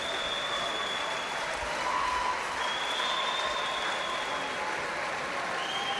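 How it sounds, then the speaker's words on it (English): A home crowd at the 2019 fencing world championships in Budapest cheers and applauds steadily, a dense, even wash of clapping with scattered whistles and shouts that holds throughout, loud and close. "we'll just have a quick pause for the cheers of the home crowd"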